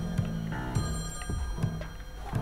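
A telephone rings in the video game Friday the 13th: Killer Puzzle, a repeating electronic ring pulsing roughly every three quarters of a second, steady and fairly loud with no talking over it.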